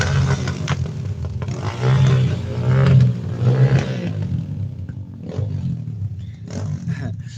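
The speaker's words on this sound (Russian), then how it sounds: "Вот ребята проезжают на мотоцикле." A motorcycle passes along a street on the outskirts of Gorno-Altaysk, its engine swelling to a loud roar and then fading away, with a brief second surge of engine noise near the end.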